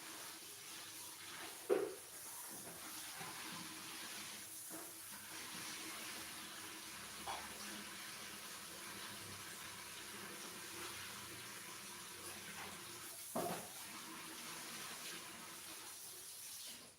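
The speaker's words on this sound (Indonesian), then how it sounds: "Pertama kita cuci ayamnya dulu." Steady tap water runs over raw chicken being washed in a kitchen sink before making chicken soto, a continuous hiss with a few brief knocks and splashes.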